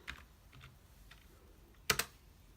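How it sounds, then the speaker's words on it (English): Sparse, quiet keystrokes on a computer keyboard while a command is entered, a few soft taps followed by one sharper double click near the end, close-miked over low room hiss. "I will write the command for that, history"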